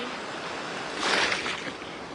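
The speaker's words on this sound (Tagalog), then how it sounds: "Grabe yung alon." Big ocean waves wash against a beach on the Italian coast in a steady broadband roar, swelling once into a louder crash midway before settling back.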